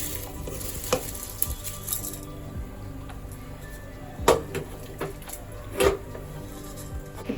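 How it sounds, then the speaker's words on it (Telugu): Soaked basmati rice tipped into a pot of boiling water for chicken pulao, a low bubbling bed broken by scattered clinks and sharper splashing clatters, louder twice near the end. "ఇప్పుడు రైస్ వేసేద్దాం ఇందాక నానబెట్టుకున్నాం కదా బాస్మతి రైస్ ఇది వేసేస్తున్నాం"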